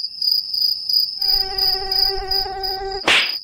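Steady high whine of a mosquito buzzing close by in a cartoon comedy scene, continuous throughout with a background drone joining partway and a brief sharp burst near the end.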